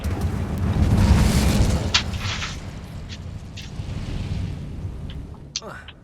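An Incendio fire spell is cast in Hogwarts Legacy, raid on a goblin stronghold, with a loud whooshing, rumbling burst of flame that swells early then trails into crackles and sharp pops.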